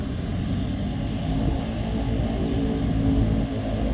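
A propeller airplane drones overhead, a loud, steady engine roar with broadband noise that holds for the whole stretch.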